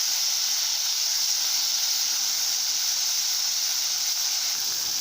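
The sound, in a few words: stir-frying vegetables for masala noodles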